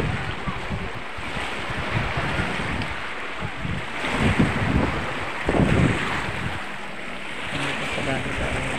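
Sea waves wash in at high tide at Bugnaw CE Beach Resort in Andabuho, with a continuous broadband roar that swells now and then, and wind buffets the microphone.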